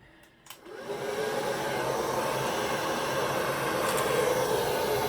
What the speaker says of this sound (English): allow the blow dryer to do the work